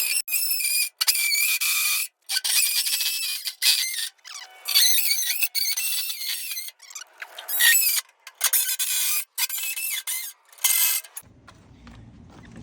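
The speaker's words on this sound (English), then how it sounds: "I'm just gonna use this multi-tool" An oscillating multi-tool cuts sheet metal for a commercial box downspout in repeated bursts of high, buzzing, screeching rasp broken by short pauses, loud and close, then stops into a quiet low rumble at the end.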